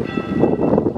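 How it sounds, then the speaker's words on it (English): Church bells in St Albans ring in a busy, overlapping clamour that sounds fairly close, heard alone without talk. "Dang, those bells are going crazy."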